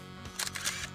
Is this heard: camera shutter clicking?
yes